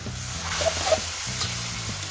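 Instant noodles with green mussels being stir-fried, a dense continuous sizzle with soft scraping as everything is tossed in the pan, close and steady with no speech.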